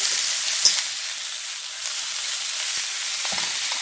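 Lamb shoulder searing in a hot pan, giving a steady bright sizzle and hiss throughout with a few faint clicks and bumps, no voices.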